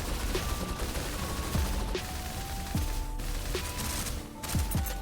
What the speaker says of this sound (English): So now I'm gonna use my skill, do a dodge shot.